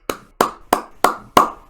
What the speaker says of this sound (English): let's give a round of applause to Chrome 23